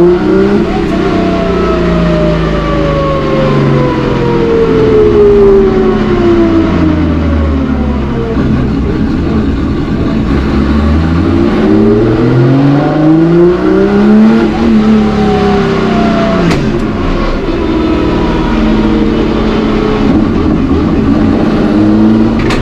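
A car accelerates hard on a run at a motorsport event, its engine loud and close with repeated rising and falling revs as it shifts and brakes, alone without speech.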